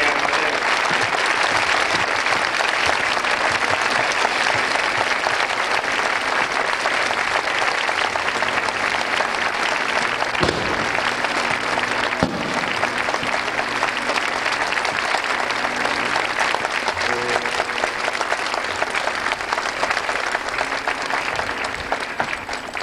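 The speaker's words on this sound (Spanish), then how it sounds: "Demos un fuerte aplauso." Sustained, loud applause from a large crowd at a priestly ordination, steady clapping throughout with no pauses, filling the whole space.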